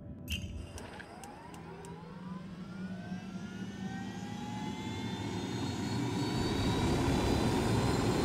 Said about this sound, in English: Here's your copter.